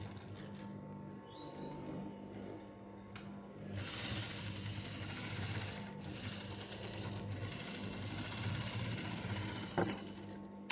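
Sewing machine stitching the seams of garment sleeves, running steadily and continuously with a brief pause, close and moderately loud throughout.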